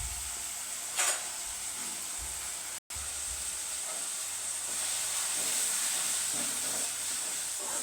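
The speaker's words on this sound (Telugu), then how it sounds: "టమాటా బాగా వేగిపోయిందండి" Tomato frying in a pan, a continuous bright sizzle and hiss held close and fairly loud for several seconds, with a brief dropout partway through and no talking.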